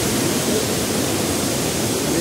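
Bhivtas waterfall at Surgana near Nashik gives off a loud, continuous broadband roar of falling water, steady and unbroken for the whole stretch.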